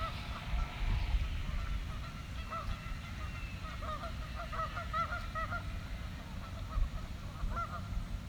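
Canada geese honk repeatedly at a distance, a scattered chorus of calls over a low rumbling outdoor background.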